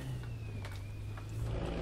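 Steady low drone of a low-horsepower Volkswagen truck engine in Euro Truck Simulator 2 pulling away in second gear, a faint, continuous hum with a slight rising rev and no voices.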